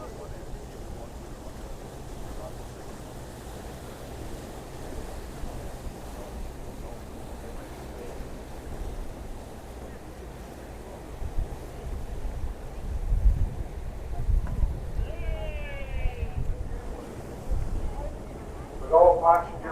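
Aboard the PS Waverley paddle steamer under way at sea, a steady wash of wind and water rumbles low and continuous, with machinery-like churning swelling midway and a few brief distant voices near the end.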